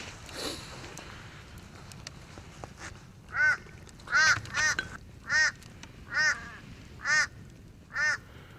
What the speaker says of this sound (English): Shoo, crows, go away.